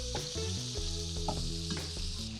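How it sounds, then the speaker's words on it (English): A steak sears in a hot pan, crackling and popping continuously at close range, with scattered sharper spits over a dense sizzle. "we're gonna give it just about 30 seconds more on the pan and let it cook a little longer"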